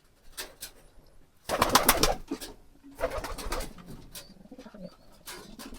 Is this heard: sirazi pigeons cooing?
yes